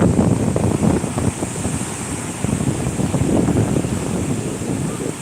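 Sea waves crashing on a beach, a continuous loud rushing roar of surf with wind buffeting the microphone, no speech.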